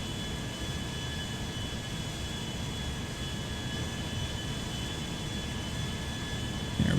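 Boeing 737 MAX 9 jet engines in GTA 5 spooling up for takeoff on a runway, a steady broadband roar with a high whine holding throughout and swelling slightly at the very end, with no talk.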